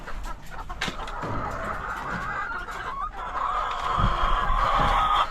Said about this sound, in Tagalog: magpapakain muna ako sa aking mga alagang manok na nandito